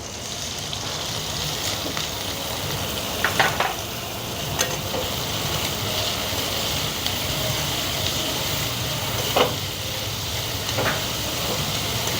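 Chopped onion fries in hot oil in a wok, a steady, close sizzle running throughout with a few sharp stirring clicks and scrapes scattered over it.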